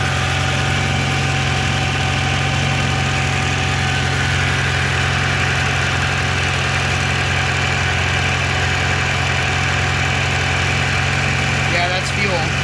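A Mitsubishi Starion engine idles steadily after a fuel injector replacement, one that still has leaking injectors; the low, even hum runs close and loud throughout with no clear change.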